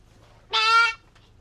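A goat gives one short, loud, nasal bleat, close to the listener, against a quiet rural background.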